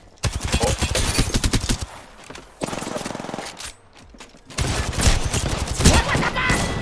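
Rapid automatic gunfire in the battle royale game Apex Legends, loud and close, comes in several sustained bursts separated by brief gaps, with the final stretch the heaviest.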